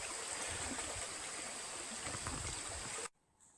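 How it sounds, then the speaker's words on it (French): The Ruisseau de Piche, a small stream in the Corrèze countryside, flows with a steady, close rushing and babbling for about three seconds before cutting off to near quiet. "Et ça c'est le ruisseau de Piche."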